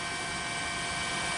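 A news helicopter hovers over the Sendai area in Miyagi Prefecture, Japan, covering the aftermath of an earthquake, its steady rotor and engine roar loud and continuous.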